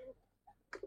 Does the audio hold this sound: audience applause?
no